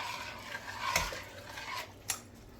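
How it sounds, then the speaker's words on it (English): A spoon stirs chicken noodle soup with a little salt in a pot, producing soft close swishing with a couple of brief clinks against the side, faint and steady. "Give that a little bit of a stir."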